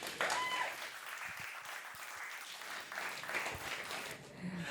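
Audience applause at an evening event honouring a filmmaker, moderate clapping from a seated crowd lasting several seconds, fairly quiet and a little distant, with a few brief sounds mixed in.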